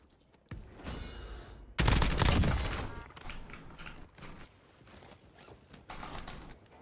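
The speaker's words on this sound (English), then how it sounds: "we got 2 dudes shooting at us" Two enemies open fire in Call of Duty: a few loud nearby gunshot bursts, the heaviest early on, followed by scattered shots and mechanical clatter of varying loudness, with no one talking.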